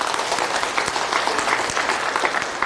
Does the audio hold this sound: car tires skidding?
no